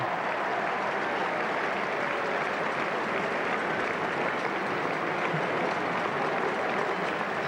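Cricket crowd at a 1976 England v West Indies Headingley Test match, applauding in a loud, steady, continuous roar of clapping that fills the whole stretch with no break.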